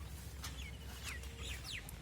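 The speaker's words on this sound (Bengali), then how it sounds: "পাখিদের ডাক শোনা যাচ্ছে" Birds calling in rural countryside during the rainy season, short chirps and whistles over a steady low rumble, fairly faint and without talk.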